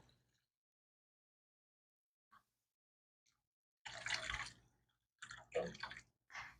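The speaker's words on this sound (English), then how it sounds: "I'm going to add in some water." Water is poured into a pot of green chile stew in short, quiet splashing bursts: one longer pour, then a couple of brief follow-ups, heard close with no talking.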